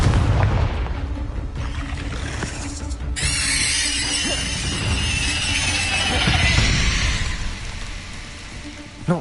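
Fire-blast spell explosion in the video game Hogwarts Legacy, a booming blast with a bright crackling burst that rumbles on under continuous battle noise, no clear talk.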